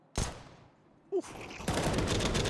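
Pistol fire from a P250 in a Counter-Strike match on the Nuke map, a sharp shot or two followed by a burst of rapid gunfire and clatter, loud and close, in a game with casters.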